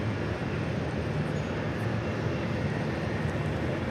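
Boeing 737-700 airliner taking off at LAX, a steady broadband jet roar with low rumble, loud and continuous throughout with no voices.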